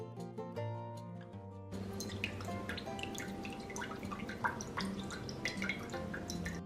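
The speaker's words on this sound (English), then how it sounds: "pour out the coconut water" Coconut water trickles and drips out of holes dug in a coconut, a close run of small splashy drips and patters following a brief tonal musical passage, with no talking.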